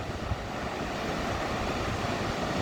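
A continuous broadband rush of water falling 100 feet at Clear Creek Falls, Colorado, steady and fairly loud, with no voices or other distinct sounds.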